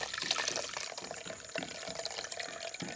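Water is drained off soaked lentils for Jaffna dosa, giving a steady close splashing and trickling flow with a few small gurgles throughout.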